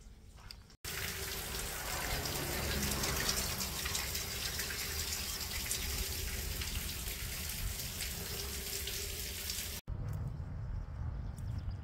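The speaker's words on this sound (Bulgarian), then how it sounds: "Ето ни на една чешмичка, където ще сипеме малко чиста водичка." Clean water gushes steadily from a roadside fountain in the Rhodope mountains into a container, a loud, dense splashing that cuts in abruptly and runs for about nine seconds before stopping sharply.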